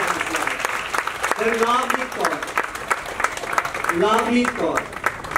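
Audience claps for the actors of a stage play at an acting academy, dense steady applause filling the hall while a man announces names over a microphone.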